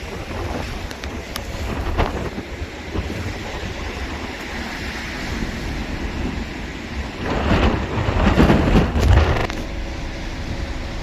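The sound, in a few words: strong wind on a boat on the Baltic Sea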